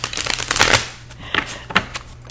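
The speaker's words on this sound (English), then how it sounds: "it does get hard to shuffle, so I love these mini card decks" A mini Aquarian Tarot deck is shuffled by hand, with close, crisp riffling bursts of papery card flicks in several quick rounds.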